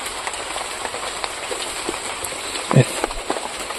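Heavy rain falls in a steady broadband wash with a sharp thump near the end, while voices talk faintly underneath.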